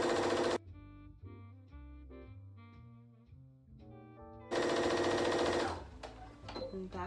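A sewing machine back stitches up the side of a drawstring bag, with loud, dense motor runs at the start and end and a quieter stretch of whirring, tonal mechanical sound between them.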